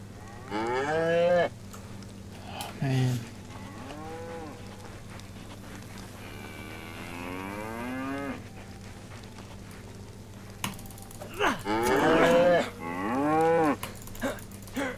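A dairy cow in the DayZ Winter Livonia survival game moos repeatedly, several long, loud calls spread out over the stretch and clustering toward the end, set against a low steady hum with no speech.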